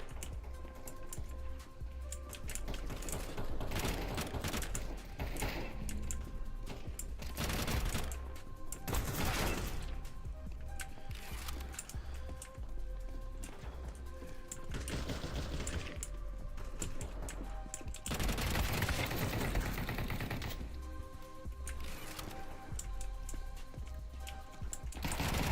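CS2 gunfire as a sniper rifle duels a FAMAS, with dense bursts of shots and clicks running continuously across the round and steady game noise underneath.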